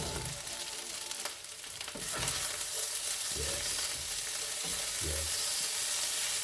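Kimchi bacon fried rice sizzles loudly in a hot pan, a steady close crackling hiss broken by a few stirring and flipping scrapes, with one brief spoken word.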